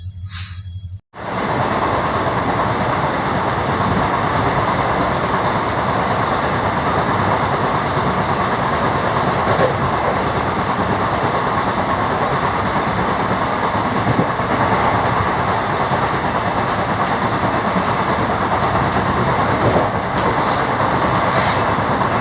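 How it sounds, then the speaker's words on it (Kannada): A passenger train runs steadily toward Siddapur halt station, a loud, continuous rumbling roar with faint rhythmic rail clatter throughout, no voices. "ನಮ್ಮ ಟ್ರೈನ್ ಬಂದಿದೆ ಈಗ ಸಿದ್ದಾಪುರ ಗ್ರಾಮಗೆ"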